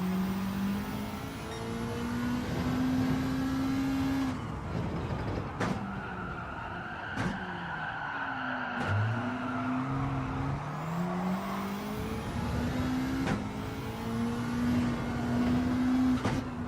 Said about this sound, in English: This guy's just drifting.